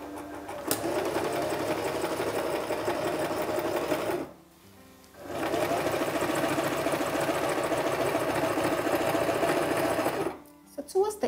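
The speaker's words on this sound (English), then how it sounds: "So I'll place the edge of my fabric at the 1 inch sewing allowance point on my sewing machine" Sewing machine running steadily as it stitches fabric near a one-inch seam allowance, a continuous mechanical whir that stops briefly around the middle, then resumes, and halts again near the end.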